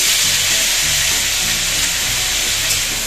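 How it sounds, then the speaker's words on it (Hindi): Vegetables frying in a pan in a home kitchen, a loud, dense, constant hissing sizzle heard close up with faint low background hum beneath. "अभी सब्जी को फ्राई कर रही हूँ"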